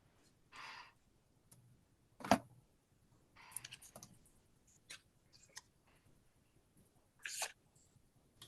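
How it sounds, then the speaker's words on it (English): A tape trimmer cutting paper for scrapbooking, heard as faint, scattered clicks and short scraping slides with quiet pauses between them, close by in a quiet room. "I can hear your trim, your tape trimmer."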